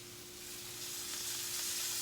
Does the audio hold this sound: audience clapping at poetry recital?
no